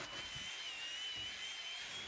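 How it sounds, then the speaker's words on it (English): Hilti drill with a masonry bit boring through gravel, a steady high whining drone held close and continuous, with faint grinding crunches underneath and no voices. "drilled straight through that with a masonry drill bit using my dad's Hilti drill"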